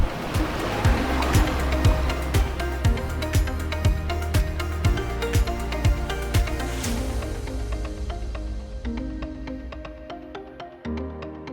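Ocean waves and rushing water surround a sailboat anchored at a reef in the open Pacific, a constant loud wash with repeated sharp slaps and knocks against the hull.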